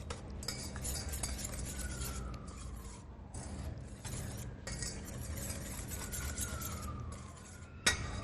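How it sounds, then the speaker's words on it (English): A spice mixture with white pepper is whisked in a bowl, producing a continuous fast rattling and scraping of the whisk against the bowl, with brief pauses and one sharp knock near the end. "I'm going to whisk this together."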